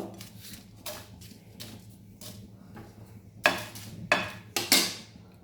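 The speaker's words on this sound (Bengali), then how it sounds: "লঙ্কাটা আগে ভেজে নেব।" Dry chillies and spices being stirred in a dry pan, with intermittent scraping and clattering strokes of a utensil, sharper and louder toward the end, over a quiet background hum.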